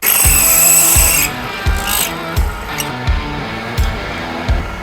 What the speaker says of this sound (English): So I drill using carbide bits that are slightly oversized.